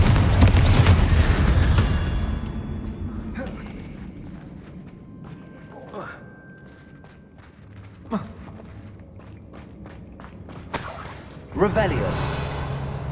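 Confringo fire spell explosions in Hogwarts Legacy land as a few sharp bursts spaced several seconds apart, over a steady rumbling game backdrop with voices talking.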